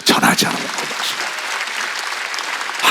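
A congregation claps loudly during a Wednesday worship service at Jesus Center Church, with a voice over the first moments before dense, steady applause fills the rest.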